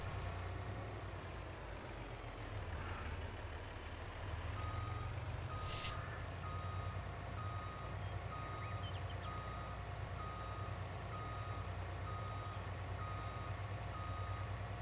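Truck reverse alarm in Landwirtschafts-Simulator 22 on a farm, a steady evenly spaced beeping repeating throughout over a constant low engine idle rumble, no talking.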